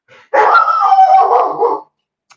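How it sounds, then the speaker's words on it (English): Dogs bark in the background of a home crafting session, one sustained howling bark preceded by a faint yip, fairly loud and alone with no talk. "Is it my dogs barking in the background?"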